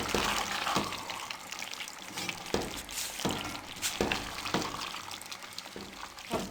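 Fried cabbage is stirred into a vegetable biryani mixture in a pot, with repeated wet scraping and sloshing strokes at a fairly regular rhythm and a constant sizzling hiss underneath.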